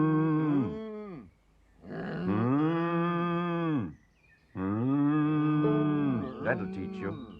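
A cow moos three times in long, loud, drawn-out calls separated by short pauses, the last call breaking into a rougher, wavering bellow.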